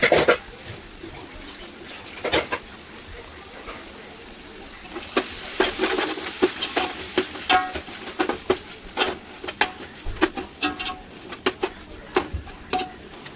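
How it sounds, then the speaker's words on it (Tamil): Mint and coriander leaves being stirred into frying onions for biryani, with a quiet background sizzle and repeated sharp clicks and scrapes of a spoon against the pan, coming faster in the second half. "இது சேர்த்ததுக்கப்புறம் வந்து நல்லா கிளறி விட்டுக்கலாம்"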